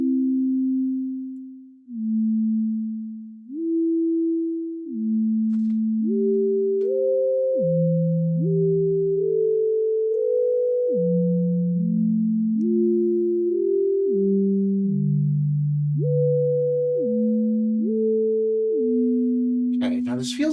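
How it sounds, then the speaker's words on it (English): A pure, sine-like synthesizer tone plays a gliding sequence of notes; the opening notes fade away in a soft release decay before a steady melodic line continues, clear and alone. "So if I hit just like quickly, you see that decay kind of happening."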